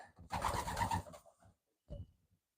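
Pigeons in a backyard loft with young birds, one loud close burst of cooing followed by a shorter, softer coo after a brief pause, with no talking.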